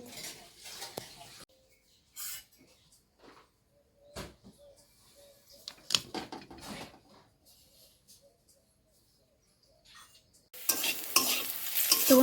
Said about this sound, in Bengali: ডালটা সম্বাদ দিয়ে দিচ্ছি, ভাজা হয়ে গেছে আমার